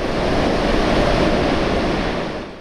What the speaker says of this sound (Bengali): ঝড়ো বাতাসের সাথে মুষলধারে বৃষ্টি